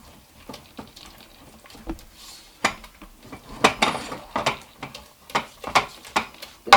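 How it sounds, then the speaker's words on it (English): Whisk beating an egg and yoghurt mixture for kousa in a bowl, making quick rhythmic clinks and swishes that grow louder and denser. "Keep whisking"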